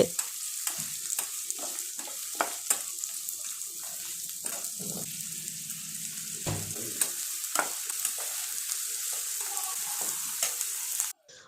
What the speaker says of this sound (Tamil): நல்லா வதக்குங்க. வெங்காயத்தை நல்லா வதக்கிட்டு